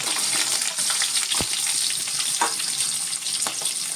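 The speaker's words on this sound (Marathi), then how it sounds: "आणि आता हे व्यवस्थित परतून घ्यायचे आहेत." Chopped onions, small Madras onions and tomatoes sauté in a pan for Mangalore Udupi-style sambar, a loud steady crackle close up with a few sharp stirring knocks and no speech.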